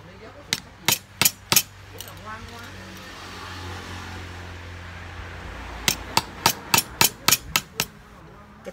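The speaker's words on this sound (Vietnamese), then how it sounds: "Em dùng đinh để đóng." Nails driven with a hammer while building a plate-trigger animal trap from fairly thick, stiff metal sheeting: a quick run of four sharp blows, a pause with low background hum, then a fast run of about ten strikes.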